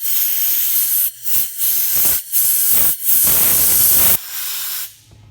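Aerosol can of carburetor cleaner spraying in a series of sharp hissing bursts, some short and some held for over a second, loud and close with brief gaps between them and no talking.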